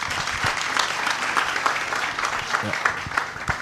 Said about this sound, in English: They deserve a bigger hand clap.